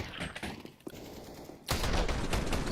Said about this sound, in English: clean shooting from Borup to boot